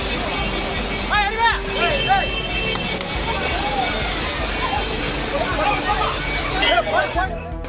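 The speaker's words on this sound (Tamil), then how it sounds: "குற்றால அருவிகளில் திடீர் வெள்ளப்பெருக்கு ஏற்பட்டதால் பரபரப்பு." Sudden flood at the Courtallam waterfalls, heavy rushing water roaring steadily while a crowd of people shouts and chatters nearby.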